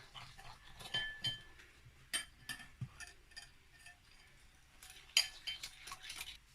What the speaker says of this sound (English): I'm going to mix all that together